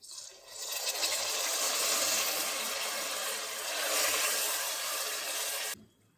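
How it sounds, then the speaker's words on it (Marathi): Half a glass of water poured into frying masala for minced meat curry in a hot pan, a loud, steady hiss and sizzle lasting several seconds before cutting off abruptly. "अर्धा ग्लास पाणी टाकून घे."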